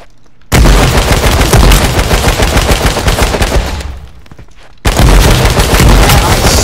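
Gunfire in the H1Z1 King of the Kill video game: loud, dense bursts of rapid shots that fade briefly, cut out, then erupt again just as hard near the end.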